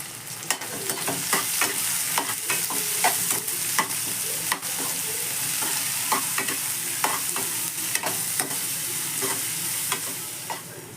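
Salted onions sizzle steadily in a hot pan while a utensil scrapes and stirs them in frequent, irregular strokes, close and continuous.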